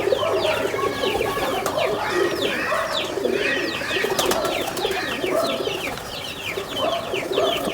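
Home-bred domestic pigeons coo steadily in a loft, with overlapping soft, throaty calls and other bird chirps layered together for the whole stretch, close and fairly loud.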